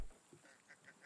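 Ducks quack on a lake in the survival game The Forest, a series of short nasal calls repeating at a steady pace, moderately near and alone without talk.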